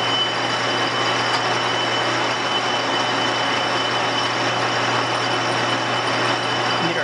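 Steady, loud mechanical hum and whir of a lathe turning down a damaged heavy shaft to 55 millimeters, a continuous drone with a low tonal hum and no speech.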